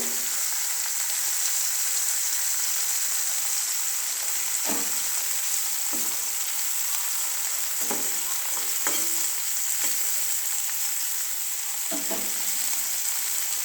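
Garlic cloves frying in a pan with tomatoes, a constant sizzle broken by a few scraping stirs and clicks of a utensil, close and steady, no talk.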